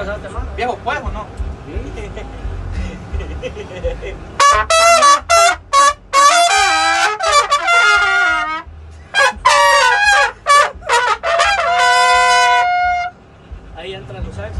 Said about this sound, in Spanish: Ahí entran los saxos.